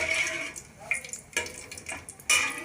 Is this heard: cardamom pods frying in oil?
yes